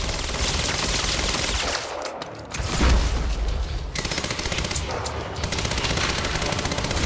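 Rapid automatic gunfire from a shooter in the game Quantum Break, loud and close. Long bursts are broken by a short gap and a heavy thump, then the fire starts again.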